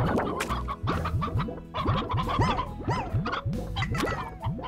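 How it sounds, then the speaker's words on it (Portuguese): Chickens in the video game Slime Rancher cluck in quick, repeated bursts, a busy flock sounding close and overlapping with no talk. "Olha o tanto de galinha."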